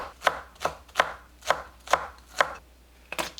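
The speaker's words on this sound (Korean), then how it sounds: "파를 썰어주세요." Green onions being chopped with a knife for a Korean stir-fried dried chwinamul dish: six or seven crisp, evenly spaced cuts on a board, close and clear with no talk.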